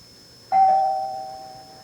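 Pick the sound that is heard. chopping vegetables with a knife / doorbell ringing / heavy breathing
doorbell ringing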